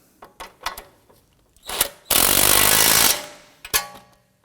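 Tie rod nut on a Volvo XC90 being run down by a power tool, one loud whirring burst of about a second between a few sharp metallic knocks and clicks, up close.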